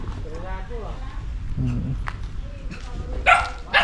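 A dog barks a few times in short bursts over ongoing voices and outdoor background noise.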